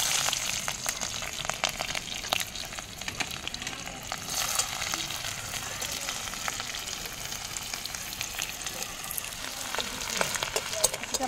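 Onion, bay leaves and cumin seeds fry in oil in a hot kadai, giving a steady, close crackling sizzle with scattered pops and light stirring throughout, and no talking.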